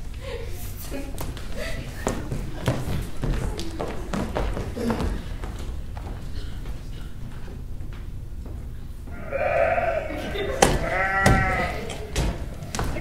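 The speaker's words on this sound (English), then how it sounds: "I will fetch up your goats, Audrey." Goats bleat in a staged rural scene, a cluster of wavering cries rising near the end after a stretch of thumps and shuffling, with people speaking around them.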